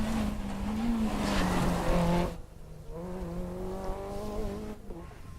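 Skoda Fabia TDI rally car at a Porto Santo rally super special stage, its engine note rising and falling as it passes fairly close, loud for about two seconds before fading into a quieter, steadier drone.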